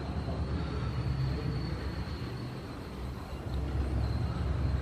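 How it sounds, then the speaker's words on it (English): A button-operated model train runs at a museum display, giving a steady low rumble and faint whine that continue evenly throughout, close by, with no talk over it. "You can actually operate the train here with the button there."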